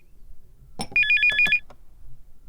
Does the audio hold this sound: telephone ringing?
yes